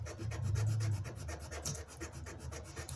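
Wooden screwdriver handles are hand sanded with 100 grit sandpaper in quick back-and-forth strokes, a steady rhythmic rasping close by with no talk.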